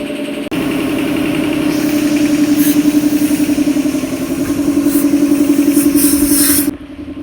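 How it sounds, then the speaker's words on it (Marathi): Air is pumped steadily into a punctured tractor tyre tube, a loud continuous mechanical drone with a rhythmic pulsing that runs for several seconds and then cuts off, with no talk. "इथं बघू शकता हवा भरत आहे त्या ट्रॅक्टरच्या ट्यूबमध्ये"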